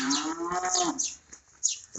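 Cattle on a farm moo loudly and close by, with a long low call followed by shorter lowing and some background movement.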